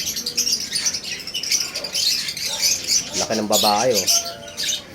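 Birds chirp and tweet steadily at a pet market where hens and cocks are on sale, while someone talks nearby in a busy, close setting.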